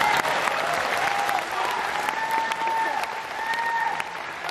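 A crowd at a pro-democracy rally in Taiwan claps for a government minister, sustained applause under a faint background voice, with a few sharp tonal cheers or whistles rising above it.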